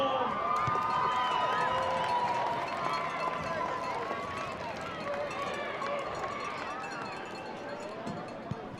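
Loud stadium crowd at a high school football game between Wardog and Grove, a dense sustained roar of many voices with whistles, cheering a fan's field goal kick attempt, with an announcer talking over the noise.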